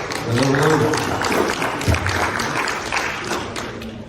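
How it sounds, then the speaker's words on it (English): An audience claps to welcome the next speaker onto a stage at a financial seminar. Mixed clapping and thumps sit under a loud voice and some music-like tones throughout. "Round of applause"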